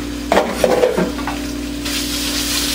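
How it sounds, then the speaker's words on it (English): Chopped bacon pieces drop into a hot pan and hiss, with a few short clatters and scrapes near the start before a steady soft sizzle carries on alone. "first thing we're going to do, throw the bacon on there"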